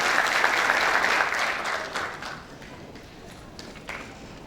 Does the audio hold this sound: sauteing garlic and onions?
no